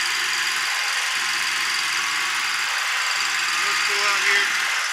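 A Polaris Ranger utility vehicle with a hydrostatic belt drive runs on a test ride, its engine giving a steady, rough drone with a slight rise near the end, while a person talks over it.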